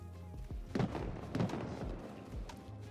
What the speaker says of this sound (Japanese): ダブルバレルショットガンの銃声変わったんだ